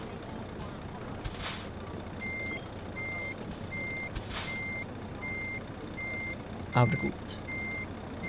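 Repeated truck reversing beeps from the Trucks & Trailers driving game while a truck maneuvers into a 90-degree parking spot, steady evenly spaced tones over engine rumble with a couple of air-brake hisses, and someone speaks briefly.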